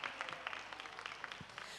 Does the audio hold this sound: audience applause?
yes